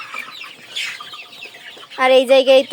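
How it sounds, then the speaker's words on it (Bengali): Native chicken chicks on a poultry farm in winter, a burst of close repeated clucks and cheeps near the end, following a man's brief speech and scattered faint bird sounds. "আমার স্বপ্নের খামারে এই 300 দেশি মুরগির বাচ্চা।"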